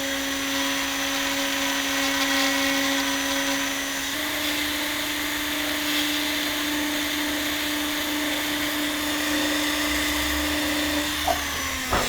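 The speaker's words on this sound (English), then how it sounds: "we're going to just start by going in and going around the edge and hollowing out the middle" A router hollows out an inlay cavity in a guitar headstock, giving a steady high-pitched whine that runs loud and unbroken, with a slight pitch drop partway and a faint tap near the end.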